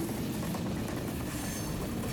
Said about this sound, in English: As the Conrail engineer backed the inbound cars into the interchange track